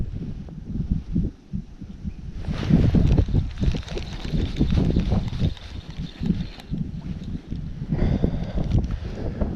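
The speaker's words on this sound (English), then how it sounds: "The wind is up." Wind blows across the River Thames at a fishing spot, buffeting the microphone with a loud, uneven low rumble that surges and eases for the whole stretch, with no voices.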